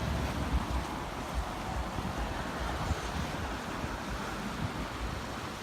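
Small waves wash onto a Mississippi beachfront in the aftermath of Hurricane Nate, a continuous rumbling surf blended with gusty wind noise on the microphone, with no talking.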